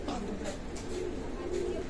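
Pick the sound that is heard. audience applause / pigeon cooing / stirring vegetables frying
pigeon cooing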